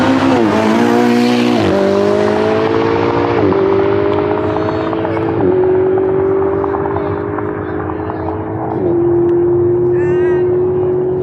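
A Ferrari 488 GTB race car accelerates hard, its engine climbing through several gear changes with sharp drops between shifts, loud at first and then receding down the track.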